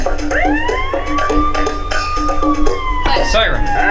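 Siren-like wailing tone from a rhythm minigame in a Nancy Drew video game, a rising then falling sweep held for a few seconds over a steady musical backing, followed by a burst of clattery sound near the end.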